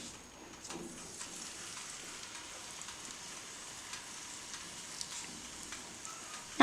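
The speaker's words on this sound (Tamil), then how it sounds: "நம்ம அரைச்சி வச்சுருக்க விழுதுகளை எண்ணெயில் போட்டுக்கணும்." Ground amla paste frying in hot oil in a kadai for homemade hair oil, a steady crackling sizzle throughout with faint stirring, ending in a sharp clink.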